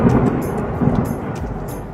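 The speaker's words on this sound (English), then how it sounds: "This is believed to be one of the most powerful lightning strikes caught on camera." Thunder from a very powerful lightning strike: a heavy, deep rumble with rolling bursts, loud at first and then slowly fading, with no voices.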